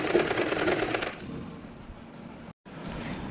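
A sewing machine stitches straight lines for a gota patti salwar border: a quick rattling run of needle strokes, then quieter mechanical whirring with a brief gap, close and fairly soft, with no talking.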